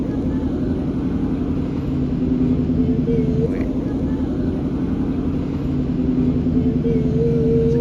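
A 1998 Ford Mustang Cobra (New Edge) pulls out of a gas station near Lake Powell, its steady engine rumble and drone continuous and fairly close.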